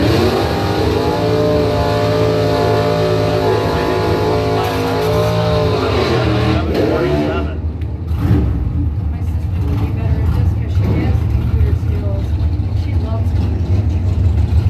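Bracket drag race between an S10 from Traverse City and a Mopar, engines revving loudly and close, pitch climbing and falling as the cars run, while a PA announcer talks over them.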